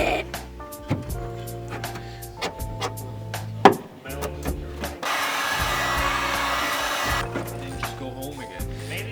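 A heat gun blows steadily over roughly 30-year-old sound deadening in an old car, a near, continuous airy hiss that swells louder midway, with intermittent knocks and scraping around it.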